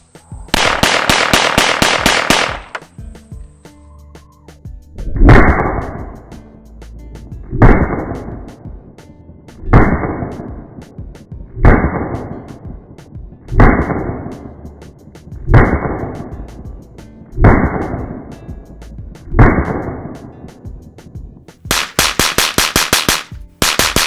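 A semi-automatic pistol fires Pyrodex black powder loads in a steady series of loud, sharp shots spaced about two seconds apart, each with a booming echo, with bursts of noise at the start and end.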